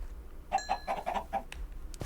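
A few short, clipped chicken clucks from the video game Minecraft come in a quick burst of about five, fairly close and clear against a quiet background.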